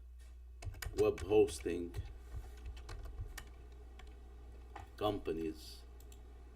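Rapid clicking keystrokes on a computer keyboard come in short bursts near the start and again around the five-second mark, with someone talking over much of the typing.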